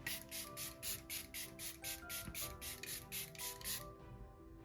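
A rapid series of short, hissy spray bursts in a steady rhythm, close up, ending after about four seconds with a faint background hum.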